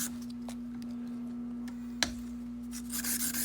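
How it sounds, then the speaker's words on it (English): Sandpaper rubbed by hand along a golf club shaft to strip off old epoxy from a 3 wood. The rubbing is faint and soft over a steady background hum, with one sharp tick partway through and a brief burst of scraping near the end. "I usually use paper myself, get all the old epoxy cleaned off, rather than putting the shaft in a belt sander"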